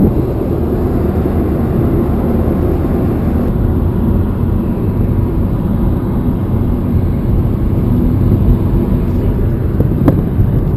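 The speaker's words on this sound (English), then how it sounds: "Now that is one sick bus." A bus with a rough-running engine produces a loud, continuous low rumble and whir, steady throughout with a brief sharp tick near the end.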